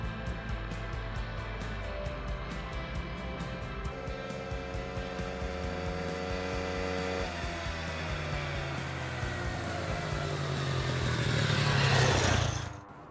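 A 2x2 ATV motorbike Scout with a three-range gearbox rides at speed, its engine whining and rising through revs, then swelling loudly near the end as it passes close before cutting off.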